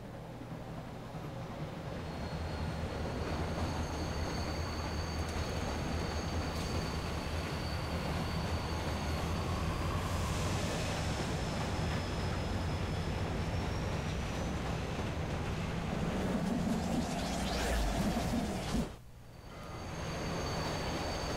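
Train rolling steadily along rails in the video game Killer is Dead, a continuous rumbling clatter with faint squealing wheels, building slightly before a brief drop near the end, with no voices.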